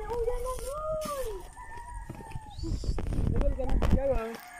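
Chickens on a rural farm cluck and crow in short repeated calls, with a rooster-like cry among them, while people talk nearby over a busy outdoor background.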